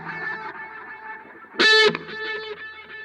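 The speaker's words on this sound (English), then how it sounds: "it's my main distortion sound, but this time we've got the phaser on and we've also got a delay after the amp" Electric guitar through a distortion tone with phaser and delay after the amp, playing sustained layered notes with a brief louder burst midway and echoing repeats.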